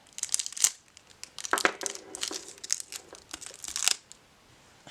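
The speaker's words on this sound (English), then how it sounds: "Come on, cellophane." Cellophane wrapper on a Ship of Fools tarot deck crinkles and crackles in close, irregular bursts of sharp rustling, fairly quiet with brief gaps.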